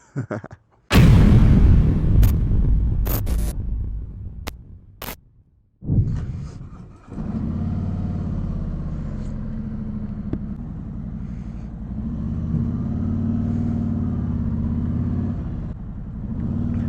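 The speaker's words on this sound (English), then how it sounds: "This is a 2019 Harley-Davidson Street Glide. We got the 107 motor in here" A 2019 Harley-Davidson Street Glide with the 107 motor gives a loud, close rumbling roar with crackling pops. The engine dips briefly, then settles into a steady, deep drone while riding.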